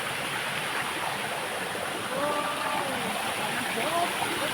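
Continuous rushing water roars steadily from a nearby waterfall, with a faint Thai voice partly heard beneath it.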